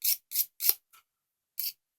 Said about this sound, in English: with the nail file, it's just, you're just getting them straight